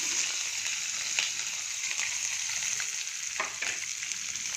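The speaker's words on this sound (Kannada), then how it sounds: "ಇದು ಸ್ವಲ್ಪ ಚೆನ್ನಾಗಿ ಫ್ರೈ ಆಗಲಿ." Five green chillies and two onions frying in oil for ragi rava upma, a continuous bright sizzle with scattered crackles and pops, close and steady with no voices.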